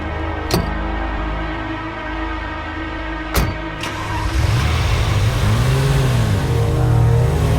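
Car with its engine running, a steady rumble broken by two sharp thuds like doors shutting, then the engine revs and pulls away, the pitch sweeping up and down as it accelerates.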